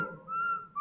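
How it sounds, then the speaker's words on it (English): Whistles blow in a video game set at a school, a sustained steady tone followed by a second shorter blast, heard alone at moderate volume. "Why is there a bunch of whistles?"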